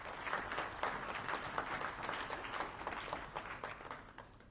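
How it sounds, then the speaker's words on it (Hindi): Steady audience applause at a Vyas Puja celebration speech, a dense wash of many hands clapping continuously at moderate loudness, with no pause for speech. "आप और जोर से तालियां बजानी चाहिए।"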